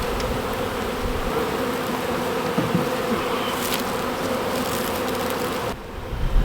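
A honey bee swarm fans at the hive, a dense continuous drone that stays loud and close for several seconds before easing slightly at the end.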